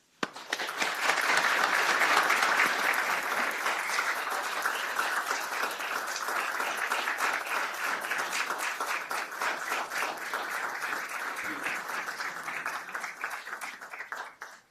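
Sustained audience applause welcoming Linda Parks at a memorial celebration, dense clapping from a crowd that swells quickly and holds steady for about fourteen seconds before tapering off.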